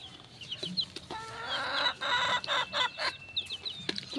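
A mother hen clucks in a farmyard with her brood of month-old chicks, her low, rolling clucks close and steady. High thin peeps from the chicks scatter around her.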